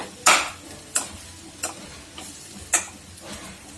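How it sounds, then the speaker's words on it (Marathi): Mashed boiled potatoes being stirred into a frying potato bhaji, with a spoon scraping and knocking the pan in five distinct strokes over a faint sizzle, close and fairly loud. "आणि ह्याला छान असं मिक्स करून घेऊया."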